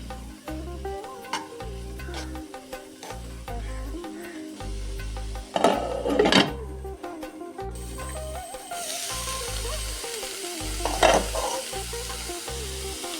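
Beans thoran being stirred in a frying pan, a steady close sizzle with scraping strokes of the spoon, two louder bursts of stirring rising above the frying.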